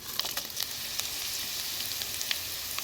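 Mustard seeds and dried chillies fry in hot oil, giving a steady bright sizzle dotted with sharp little crackles and pops, close up and continuous.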